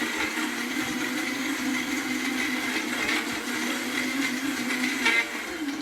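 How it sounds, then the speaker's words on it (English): A blender crushes ice for a Baby Mango mango cocktail, a steady loud motor whir and grinding that runs continuously with slight swells, no talking over it. "So it's important to use a good blender for this"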